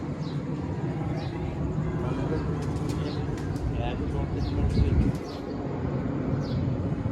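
A racing pigeon settles on a rooftop during a pigeon-flying contest, with soft cooing, a brief flutter of wings and light chirps over outdoor hum and background talk.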